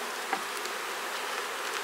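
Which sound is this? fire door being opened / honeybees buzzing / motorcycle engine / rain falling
honeybees buzzing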